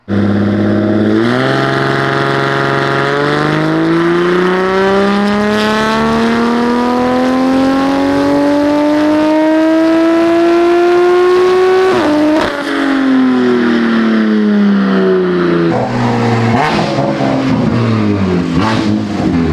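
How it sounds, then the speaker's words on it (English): A built-motor BMW M4 making around 900 horsepower revs on a dyno, its engine note climbing steadily in one long loud pull, then cutting sharply and dropping back before rising again unevenly. "maybe we'll get a 9K RPM of this car on the dyno"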